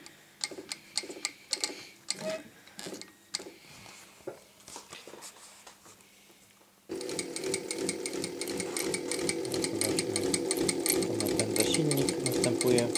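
A Jack JK6380 industrial sewing machine is turned slowly by hand, giving a run of separate mechanical ticks, before it runs under power with a loud, dense, steady whirring rattle. A voice speaks over the hand-turned part.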